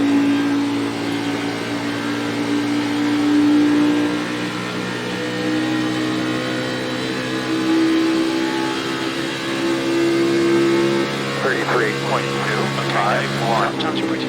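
A NASCAR Xfinity Series race car in the iRacing simulator at Atlanta Motor Speedway drones steadily at high revs for the whole stretch, with slight pitch shifts. Brief chirping sounds appear near the end.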